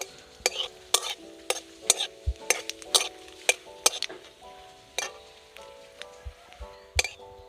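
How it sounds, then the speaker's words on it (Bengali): Bay leaf, dried chili and cumin fry in a pan for jeera rice, heard mostly as a series of sharp, ringing metallic scrapes and taps of a spatula against the pan over a faint, quiet sizzle. "তেজপাতা, শুকনো লঙ্কা, জিরেটা একটু ভালো করে ভেজে নেব।"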